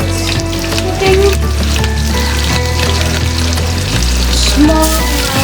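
Mutton curry sizzles and fries loudly in a pan, a dense continuous hiss with bubbling crackle and some low hum beneath, close up and without any talk.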